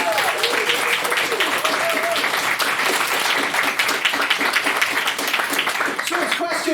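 An audience claps for the speakers at a debate on whether mainstream feminism fails minorities, a sustained dense round of applause close and loud throughout, with scattered voices mixed in.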